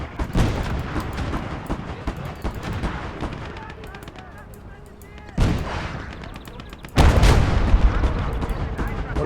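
Artillery shells fire in the war game Legion of the Damned. Heavy booms and rattling gunfire go off repeatedly, with two loud close blasts near the end, under occasional talk.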